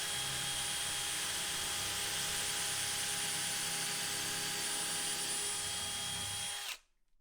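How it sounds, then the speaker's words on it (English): A power drill bores steadily during a kitchen cabinet install, a loud sustained whine that holds constant for several seconds and then cuts off abruptly near the end. "You pull the drill out as you're drilling, it helps clean the bit out."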